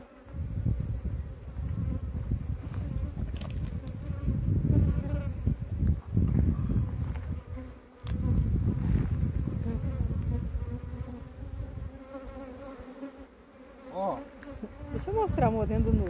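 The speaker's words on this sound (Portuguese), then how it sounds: "Olha quanta abelha." A large swarm of honeybees buzzing during a hive transfer into a nucleus box in the countryside, a dense, continuous close-up hum with wingbeats rising and falling, faint voices now and then.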